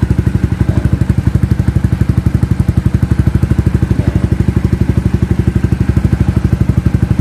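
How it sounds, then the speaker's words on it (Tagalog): Steady, rapid thumping of an Akrapovic M1 exhaust on a Rouser NS125 FI motorcycle idling on a cold start, a deep rhythmic burble that holds even and loud throughout with no voices. "Yung tunog niya pag cold start."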